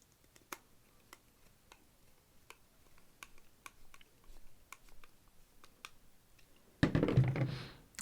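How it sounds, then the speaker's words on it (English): Screws tightened by hand during assembly of a Lynx, giving sparse faint ticks and small clicks spaced out in a quiet room, ending in a louder brief rustling burst. "So tighten the screws."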